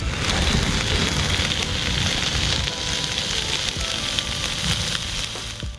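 Bacon sizzling in a pan, a loud, continuous crackling hiss with dense popping spatters throughout, close up and with no talking.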